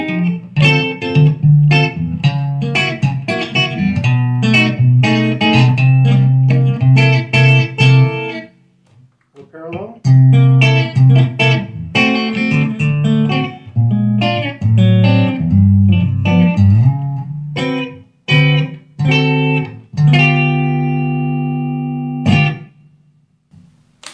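Valiant Jupiter Mola electric guitar played through its single coil pickups, loud bright chords and picked phrases with ringing sustain, brief pauses between passages and a held chord at the end.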